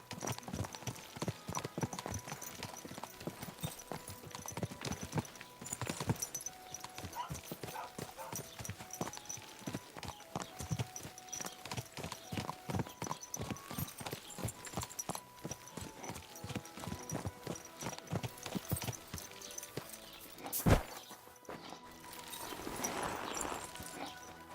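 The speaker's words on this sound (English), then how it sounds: "Vou levar meu cavalo ali?" Horse hooves clip-clop steadily in Kingdom Come: Deliverance II, a continuous close rhythmic trot that runs the whole time with brief faint game chatter, then a louder thump near the end.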